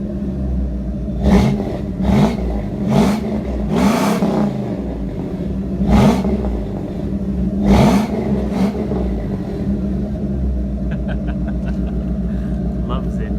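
A Ford F250 truck's gas engine revs in a series of loud, rising bursts over a steady idle rumble, with several distinct throttle blips close by before settling back to idle.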